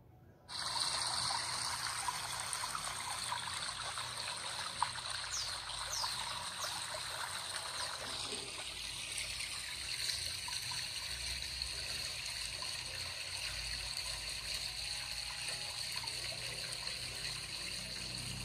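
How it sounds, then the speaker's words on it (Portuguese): Steady rush of falling water like a waterfall, recorded and played back, constant and moderately loud, starting abruptly after a brief quiet moment. "Som de cachoeira."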